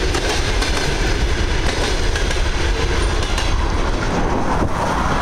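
A train passes on a railway line close by, making a loud, continuous rumble with clickety-clack wheel rhythm that holds steady throughout, with no voices.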